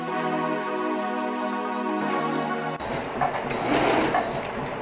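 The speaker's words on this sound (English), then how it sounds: "start stitching here around the middle section" A sewing machine stitches fabric for a dog bed, a steady mechanical hum with a tonal drone that shifts partway through, then turns into a brighter, busier rattling whir as stitching continues.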